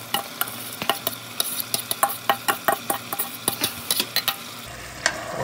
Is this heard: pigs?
no